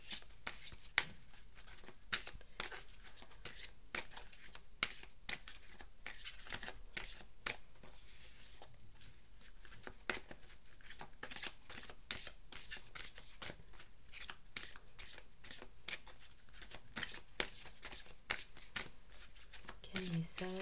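Tarot cards are shuffled close up in quick repeated riffles and soft slaps throughout, with a rhythmic patter of card edges and no clear talk over it.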